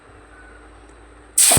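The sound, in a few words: onions and chillies sizzling as added to hot oil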